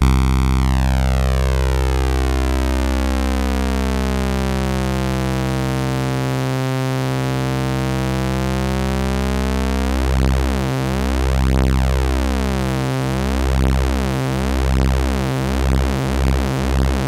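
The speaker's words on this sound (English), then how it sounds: "Let's put that on saw wave really quick. Now let's slightly detune that." A bass tone from a Mariana bass synth set to a saw wave plays as a sustained, buzzy drone; partway through it is slightly detuned and takes on a pulsing, wavering beat. No voices are heard.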